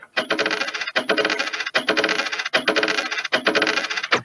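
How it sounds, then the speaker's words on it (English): A coin clatters and rings repeatedly on a hard surface, bouncing and spinning in quick bursts about every second, close and bright. "a musical pattern of a coin falling on a table"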